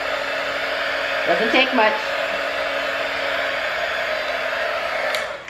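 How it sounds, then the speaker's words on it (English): A cheap embossing heat gun blows hot air in a steady, loud whoosh for the whole stretch, clicking off near the end, with a brief spoken remark partway through. "This is just a cheap embossing gun I got at Michael's."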